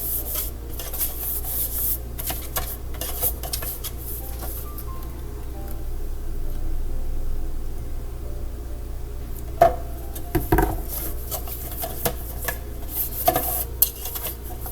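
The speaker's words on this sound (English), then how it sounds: "now basically I'm just going to grease the sides of my pan" Soft rubbing and brushing as butter is spread around the sides of a baking pan for banana bread, with faint scraping, a few light metallic knocks of the pan, and a low background hum.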